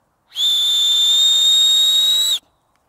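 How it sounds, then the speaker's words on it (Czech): A single loud, shrill blast lasting about two seconds from the small SOS whistle on a SilverPoint headlamp strap, a steady piercing tone heard up close with silence before and after. "na jejím pásku je praktická SOS píšťalka"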